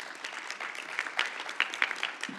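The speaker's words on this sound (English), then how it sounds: "Let's please give them a round of applause for their assistance." Audience applause at a diversity networking event: continuous, moderately loud clapping from a room of people with a few sharper individual claps standing out, lasting throughout.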